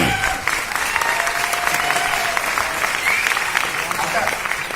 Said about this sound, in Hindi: जो पी के आए हैं वो लोग ताली बजा रहे हैं